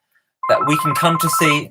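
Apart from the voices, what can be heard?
mobile phone ringtone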